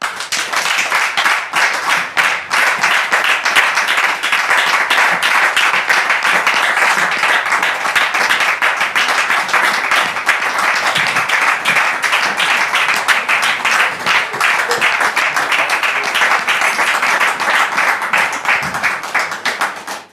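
A studio audience gives sustained, dense applause with steady clapping to welcome a guest onto a French-language talk show. It stays loud and continuous for about twenty seconds.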